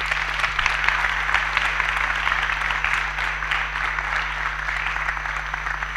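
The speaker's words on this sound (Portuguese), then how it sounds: "primeiro de tudo, uma salva de palmas" An audience at an engineering student forum gives steady applause, a moderate, even wash of many hands clapping for several seconds over a low constant hum from the room's sound system.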